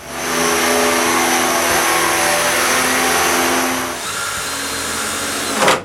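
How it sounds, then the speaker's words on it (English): A power sander on a wooden dresser whirs loudly and steadily for several seconds, then its pitch drops as it winds down, ending with a brief clunk. "I do a final sanding on the dresser."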